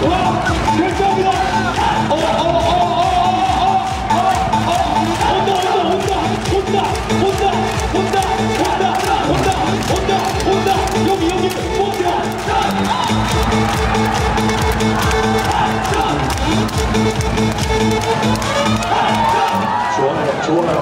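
A packed indoor crowd at a Korean professional volleyball match cheers and claps in rhythm with the cheerleading, a loud, continuous roar of voices and steady beating claps.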